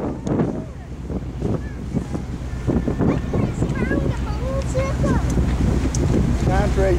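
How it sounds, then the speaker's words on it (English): Gusty wind buffeting the microphone on an open ferry deck travelling from Wales to Ireland, a low rumble underneath, with people talking intermittently through it. "It's a little windy."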